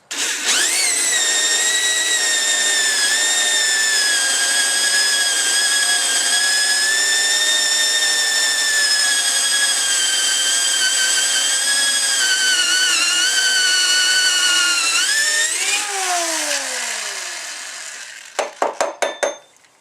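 A power drill bores a hole through a wooden door for a door knob, a loud steady whining drone that holds for about fifteen seconds, then winds down in pitch and ends with a few sharp clatters.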